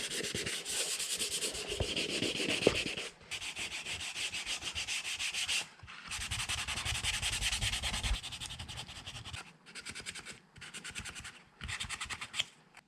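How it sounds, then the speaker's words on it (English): Steady rubbing and scratching of 400 grit sandpaper over plastic heater box parts from a Toyota Land Cruiser FJ40/HJ47 rebuild, in long continuous strokes with brief pauses between passes, close and fairly loud. "Now we're just going to rub the whole thing down with some 400."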